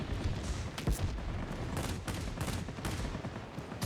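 Aircraft cannons firing in World of Warplanes, from a Tier VIII J8M rocket plane with temperamental Mark 108-type guns, heard as a steady crackling stream of bursts with sharper repeated reports, loud and continuous throughout.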